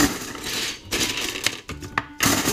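RAM sticks are tossed into an empty bucket, giving several sharp plastic-and-metal clatters and clinks in irregular bursts, close by, with no talking.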